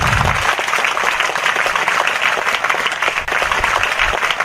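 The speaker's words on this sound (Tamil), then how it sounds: "எல்லாரும் ஒரு பெரிய கைத்தட்டு கொடுங்க அவங்களுக்கு" Large seated audience at a Tamil fitness talk applauding people over sixty, steady dense clapping throughout, fairly loud and unbroken.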